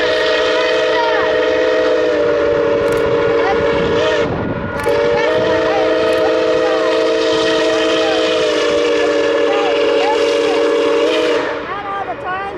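Steam locomotive 261 passing through Hopkins, its whistle sounding as a long, loud, steady chime that holds for most of the clip, breaking briefly once and fading near the end, with chuffing and rail rumble underneath.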